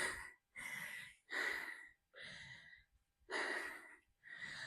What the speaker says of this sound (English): all you can hear is me panting